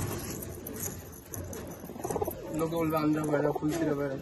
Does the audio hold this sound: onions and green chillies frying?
no